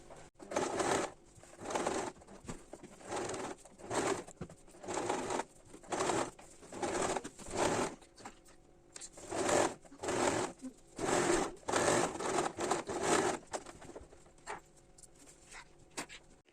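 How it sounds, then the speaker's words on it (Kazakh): A sewing machine stitches a lined turban in repeated bursts of whirring, stopping and starting every second or so at moderate volume. "Мынау машинканың белгісі бойынша сонымен 2 см тігіп отыратын боламын."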